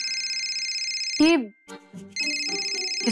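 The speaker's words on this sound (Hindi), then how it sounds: "किसका फोन बज रहा है, वो भी आगरा वाले नंबर पे?" A telephone ringtone trills steadily, stops briefly while a voice speaks over a short break, then resumes ringing at an even, repeating rhythm.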